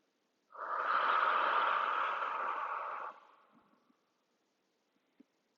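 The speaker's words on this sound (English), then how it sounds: "One more big exhale" A single long, breathy exhale during a yoga stretch, close and clear, lasting about three seconds before trailing off into quiet.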